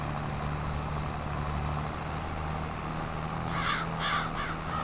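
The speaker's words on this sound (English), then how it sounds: "Out of the field, birds." Crows caw a few times toward the end, mid-distance, over a steady low engine drone and ambient hum in the farming game Farming Simulator 22.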